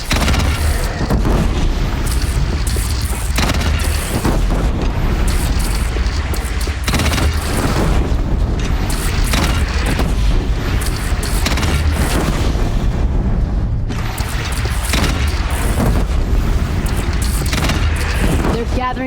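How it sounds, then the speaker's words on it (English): Loud, dense battle din in Horizon Zero Dawn with repeated booming cannon blasts and rapid gunfire-like bursts, continuous and chaotic for the whole stretch. "They only have one cannon!"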